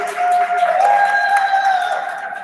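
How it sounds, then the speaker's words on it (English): Audience at a kickoff event claps briefly, a moderate, steady patter of applause that swells and then tapers off, with a faint voice over it. "Can we clap it up for your brother?"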